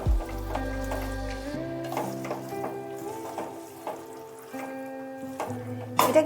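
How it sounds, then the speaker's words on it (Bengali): Bhetki fish stirred into a cauliflower ghonto in a hot pan gives a soft, close sizzle with intermittent scraping and stirring clatter, over a steady tonal hum in the background. "বেছে রেখেছিলাম যে মাছগুলো, সেইগুলো দিয়ে ভালোভাবে নাড়িয়ে নিয়ে মিশিয়ে নিতে হবে।"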